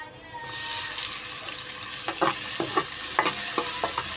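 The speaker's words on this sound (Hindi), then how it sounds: "अब इसको भी हल्का सा हम इसी के साथ फ्राई कर लेंगे, प्याज के साथ।" Vermicelli fries in a pan with onion, garlic, ginger and tomato, a bright steady sizzle that starts abruptly, with spoon scrapes and stirring knocks over it.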